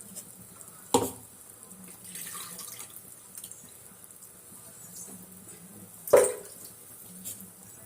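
Dissolved tamarind water goes into a pot of coriander rasam in two short, distinct splashing pours, a few seconds apart, against a quiet kitchen background.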